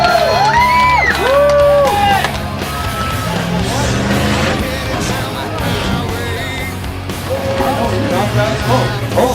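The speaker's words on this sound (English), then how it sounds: "Come on, cheer them on, you guys." A crowd at a Tuff Truck Canada off-road truck event cheers loudly, with whoops, shouts and rising yells layered over a constant rumbling background.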